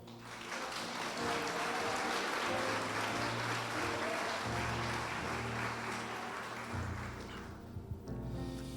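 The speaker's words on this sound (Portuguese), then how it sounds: "Vamos aplaudir o Senhor." A church congregation applauding together, a sustained wash of clapping that holds steady, with background music underneath, then fades out near the end.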